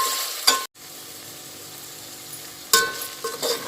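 Ginger garlic paste fries in a pan, a soft, steady sizzle with a couple of louder stirring scrapes and a brief dropout partway through.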